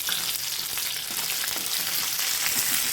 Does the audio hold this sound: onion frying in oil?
yes